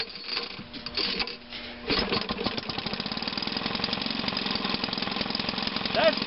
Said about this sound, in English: The engine is running quite well. A very slow RPM.